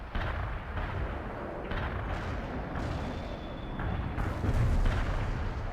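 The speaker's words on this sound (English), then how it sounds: "Coordinates received. Artillery firing." A World in Conflict artillery strike pounds in heavy, rumbling booms that roll and overlap into a continuous barrage, thick with low-end weight.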